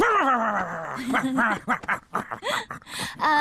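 A person yips and whines in short, pitched bursts, imitating a puppy's bark, with a breathy laughing quality between the calls.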